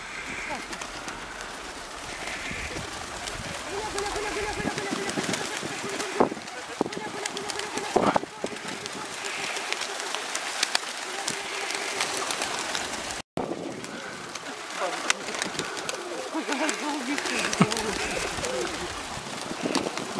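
Pigeons in a park in Khabarovsk coo steadily while being fed, a dense, continuous murmur of calls close by, with outdoor noise and occasional bumps throughout.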